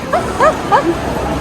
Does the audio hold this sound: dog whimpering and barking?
yes